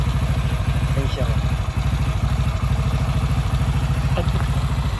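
A motorcycle engine idles steadily close by, a low, even pulsing chug with faint clatter that runs unbroken through the clip, with no talk over it.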